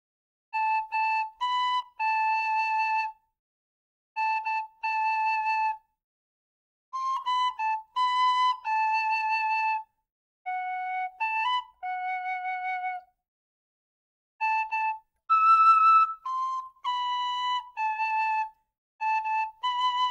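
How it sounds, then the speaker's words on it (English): Tin whistle in D playing the melody of a Frozen II song, clear sustained notes in short phrases separated by brief pauses, solo and close. "a version that you can play along with on a D whistle"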